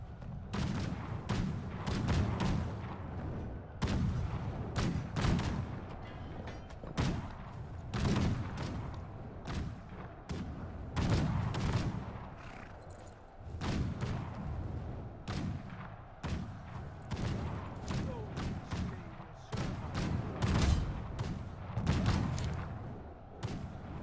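Repeated volleys of musket or gunfire from massed troops in the video game Conqueror's Blade crack out in bursts over a rumbling battle backdrop, steady and loud across the whole stretch.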